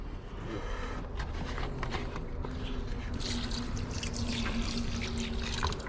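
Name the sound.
distilled water poured in to rinse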